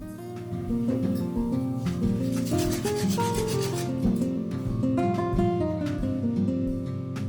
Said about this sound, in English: I press the seeds into the dough using the dough scraper.